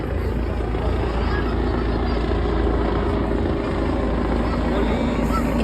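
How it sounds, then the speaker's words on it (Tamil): Police helicopter flying overhead during a Ramadan food event, its steady low rotor drone continuous throughout, loud and constant with faint voices mixed into the background. "மேலே ஹெலிகாப்டர் விட்டெல்லாம் போலீஸ் செக் பண்ணிகிட்டு இருக்காங்க"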